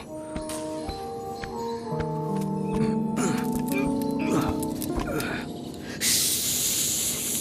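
In an animated jungle story, a voice imitates a snake's hiss, a loud, airy sustained hiss near the end, preceded by background music and tonal effects.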